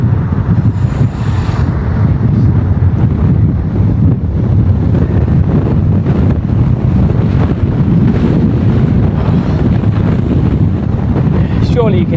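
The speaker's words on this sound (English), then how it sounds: "Surely you can hear it's windy" Strong wind buffets the microphone continuously during a bike ride along the coast between Blackpool and Liverpool, a dense rushing roar with gusty fluctuations and faint traffic-like rumble underneath.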